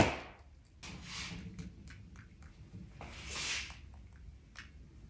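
Watery pink paint flicked from a heavily wetted brush onto an abstract canvas, a series of soft wet splats and spatters in quick irregular bursts, close and fairly quiet with no speech.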